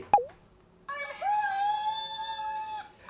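After a small click, a bright, sustained lost-phone alert tone plays from a phone speaker, warbling slightly before stopping, fairly quiet.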